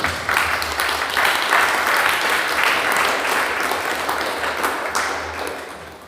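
A church congregation applauds together, a dense, sustained patter of many hands clapping at close range that swells early and fades slightly toward the end.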